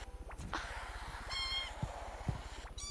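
Cats meowing from a phone game app, a few short synthetic meows over a steady low rhythmic game backing loop, fairly close and clear.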